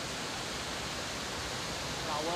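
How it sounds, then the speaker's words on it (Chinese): Feihong waterfall at a river source in Jiexi, a steady loud broadband roar of rushing water filling the whole clip without a break. "呢个瀑布好靓啊"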